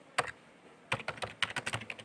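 Computer keyboard keys tapped to enter a Python command: one short burst of keystrokes, a pause, then a quick run of about ten crisp, close taps with no talking.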